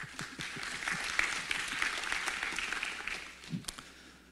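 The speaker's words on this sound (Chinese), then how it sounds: "我们掌声欢迎叶总经理特助" Audience at an automotive IC industry trends forum applauds to welcome the next speaker, a steady wash of many hands clapping that fades slightly near the end.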